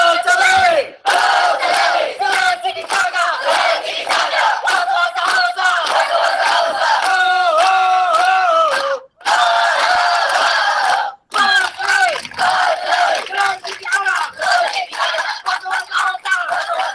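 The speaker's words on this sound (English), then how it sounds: "This is UCR, and this is their Botalele cheer." A UCR Circle K group shouts the Botalele spirit cheer in unison, a loud, continuous crowd chant with rhythmic voices and brief pauses between sections.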